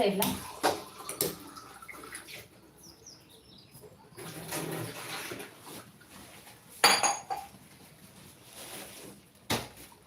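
Peanuts tipped into a pan for dry roasting make a few sharp clattering, rattling bursts against the metal, close and brief, between quieter kitchen handling noises; a voice talks at moments.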